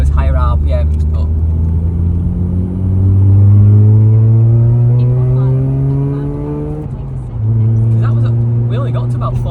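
A bridgeported Mazda RX8 rotary engine accelerates hard in third gear, a loud rising buzzy drone that climbs in pitch, dips briefly at a shift or lift, then climbs again from inside the car.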